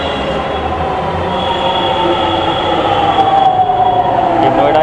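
A Delhi Metro train arrives at a station on the line toward Noida Electronic City, with a steady loud rumble, rolling wheel noise and a faint high squeal, heard close and continuous.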